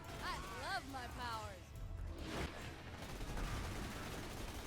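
Rapid gunfire from weapons in Borderlands 2 fills the clip as a dense, continuous crackle of shots under someone talking throughout.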